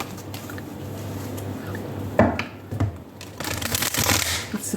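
A large, broad Good Tarot card deck being shuffled by hand, with soft riffling and rustling throughout and a louder burst of card slapping midway, close and without talk.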